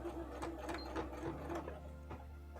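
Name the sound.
sewing machine stitching cosplay coat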